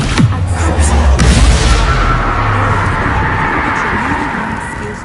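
Bombarda and Descendo spells are cast in Hogwarts Legacy, giving a sharp loud bang followed by heavy crashing booms, then a long rumbling decay that gradually fades.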